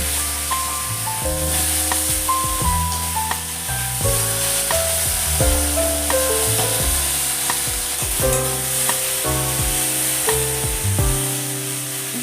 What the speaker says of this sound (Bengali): আর মাছগুলো আমার ভাজা হয়ে গেছে আজকে তো উল্টে দিলাম